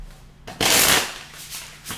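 Tarot cards are shuffled in a single brisk, close riffle lasting under half a second, followed by lighter rustling of the deck.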